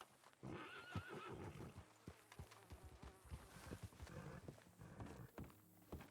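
In the RedM video game, a horse whinnies loudly near the start, then hooves clip-clop in an irregular rhythm close by, with buzzing insects in the background and no talking.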